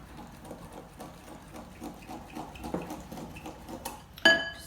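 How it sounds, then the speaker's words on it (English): Whisk stirring vinaigrette into chocolate in a bowl, giving soft quick rhythmic ticking and scraping against the bowl, ending in a brighter clink of metal, close up and fairly quiet with no talk. "Just give it a little whisk."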